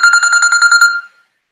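A loud electronic phone ringtone trilling with rapid pulses for about a second, then cutting off into silence, signalling an incoming call.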